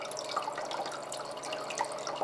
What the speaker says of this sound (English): here's our pump, and I hope I have enough water in here, and I'm gonna go ahead and turn this on